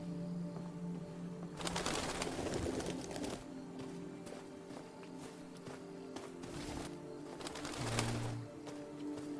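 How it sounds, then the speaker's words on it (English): Pigeons coo in a city scene of the video game Detroit: Become Human, steady low cooing over constant ambient hum, with rustling and a soft footstep-like scuffle mid-way. "Lots of pigeons."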